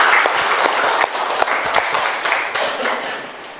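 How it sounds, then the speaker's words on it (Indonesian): A classroom of students claps together in a loud, close burst of applause lasting a few seconds, with scattered individual claps and voices mixed in as it tapers off. "Tepuk tangan buat semuanya."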